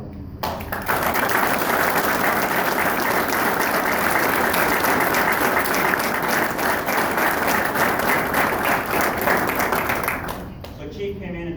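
Loud, sustained applause from a gathered crowd of family and friends at a Chief Warrant Officer commissioning ceremony, a dense, even roar of clapping that holds steady for about ten seconds before tapering off abruptly.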